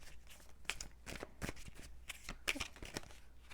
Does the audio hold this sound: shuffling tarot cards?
yes